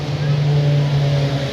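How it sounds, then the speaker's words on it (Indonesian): A loud car engine drones steadily nearby for the whole moment, its low, sustained rumble filling the foreground with no other sound standing out. "Gila mobil suaranya kacau."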